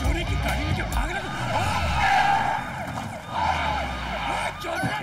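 A stolen car speeding away with tires skidding and screeching loudly and continuously, engine roaring underneath and a siren-like wail mixed in, with voices shouting over the noise.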